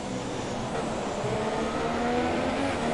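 An F3 race car engine in an F1 racing video game, droning steadily and loudly at close range for the whole stretch as other cars run nearby, with no talk.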